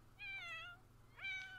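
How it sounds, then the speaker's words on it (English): A cat in The Sims 4 gives two meows, a longer one first and then a second after a pause, both clear over a quiet, low game hum. "What are you meowing at, cat?"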